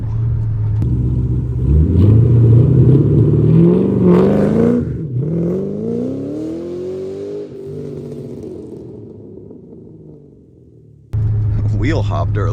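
A Ford Mustang launches hard from a standstill, its engine revving loud and close with a rising roar that climbs and then falls away, ending in a slight wheel hop before a steady engine rumble returns.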